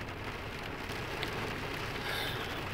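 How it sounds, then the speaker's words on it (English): Steady rain falling outdoors, a dense, even hiss of drops on surfaces that holds at the same level throughout with no other sounds. "Oh, listen to this rain. This is horrible."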